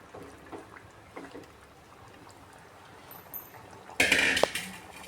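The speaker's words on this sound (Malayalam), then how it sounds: "അപ്പോൾ ഗൈസ്, ഈ ഗ്രേവിയിലോട്ട് ഞാൻ ചിക്കൻ പീസുകൾ ആഡ് ചെയ്യാൻ പോവുകയാണ്." Chicken pieces dropped into a pan of curry gravy in a home kitchen give a sudden loud burst of sizzling, clattering splashes, after a stretch of quiet low kitchen noise with faint clinks.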